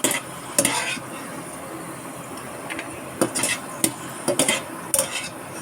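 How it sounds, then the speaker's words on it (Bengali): Fried raisins and nuts scooped from a pan into a bowl while making nababi semai for Eid, giving several short scraping clinks of a spoon against metal over a faint steady sizzle, with no talk. "আমার কিশমিশ এবং বাদাম ভাজা হয়ে গিয়েছে আর বেশি ভাজা যাবে না এই যে আমি এখন একটি পাত্রে তুলে নিচ্ছি"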